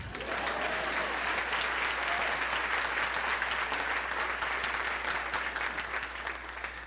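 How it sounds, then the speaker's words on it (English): A conference audience at a 2019 Washington diversity, equity and inclusion summit applauds steadily and loudly for the full stretch, a dense, even wash of many hands clapping with no break. "Let's clap."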